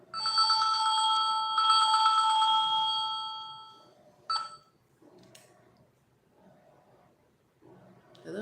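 A telephone rings out while someone calls a crisis hotline, with a bright, trilling ring sustained for about three seconds, then a brief beep and faint clicks and rustles in near silence.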